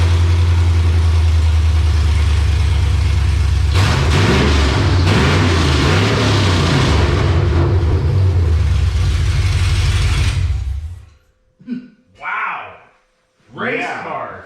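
A 2003 Chevrolet Silverado 2500 non-HD, 6.0-liter V8, 4L80, two-wheel drive, with Speed Engineering 1 7/8 long tube headers and rear exit exhaust, idles loud and deep with a few blips of revving before cutting off; voices follow.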